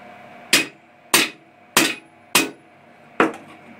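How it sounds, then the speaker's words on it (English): Beater hammer drives a tool steel punch into metal while hand forging a coat hook, five sharp ringing strikes spaced about half a second apart with a pause before the last, close and loud with no talk. "you noticed I used a beater hammer"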